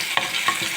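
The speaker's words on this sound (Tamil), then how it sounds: "நல்லா வதக்கணும்." Tomatoes sautéing in a pan with onion and curry leaves for a South Indian dish, giving a short, close sizzle broken by a few soft stirring scrapes, with no talking.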